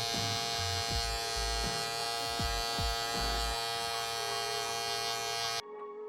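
Andis electric clippers with no guard, the lever set fully open, buzz steadily while trimming and fading a beard, a close continuous hum with faint contact changes, cutting off sharply near the end.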